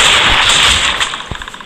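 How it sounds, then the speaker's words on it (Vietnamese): Mechanizer gun firing in the survival video game Last Day on Earth: Survival, a loud continuous burst of rapid gunfire that fades into a few separate trailing shots near the end. "Và đây khẩu Mechanizer, khẩu súng xịn của chúng ta."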